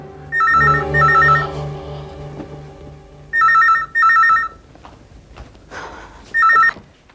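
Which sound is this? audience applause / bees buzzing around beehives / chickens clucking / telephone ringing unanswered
telephone ringing unanswered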